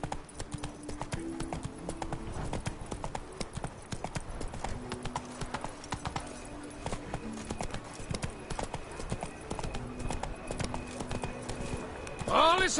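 Roach the horse trotting in The Witcher 3, with steady rhythmic clip-clop hoofbeats running throughout, near and fairly loud over game ambience, and voices talking at times.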